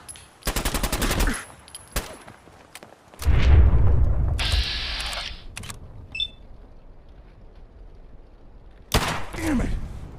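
Gunfire in the video game Fallout 4 as an NPC is shot in the leg: a rapid burst of sharp shots, then a deep boom and scattered game effects, ending with a voice and another shot.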